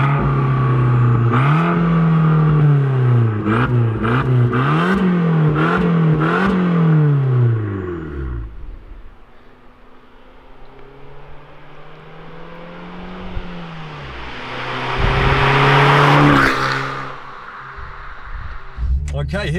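An Abarth 595 Competizione (Series 4) engine revs in a run of rising and falling blips, loud and close, then settles to a quieter rumble before a brief whooshing surge.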